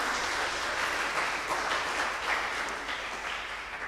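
Church congregation clapping together during a Sunday service book launch, a steady, fairly faint wash of applause from a large room, continuing evenly without talk.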